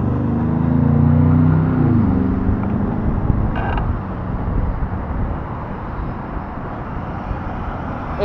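Scooter riding through moderate city traffic on a holiday, steady broadband road and wind rumble throughout with a brief creak or mechanical squeal partway through, no talking.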